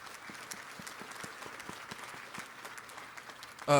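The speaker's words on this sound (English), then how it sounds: "Please, a round of applause for them." Outdoor crowd applause at a Las Vegas high-speed rail groundbreaking ceremony, a steady patter of many hands clapping at moderate distance, ending with a sudden louder burst.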